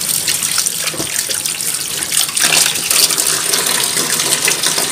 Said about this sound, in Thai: พี่ปูจะล้างนะคะล้างเครื่องเทศทุกอย่างออกให้หมดเลยนะคะ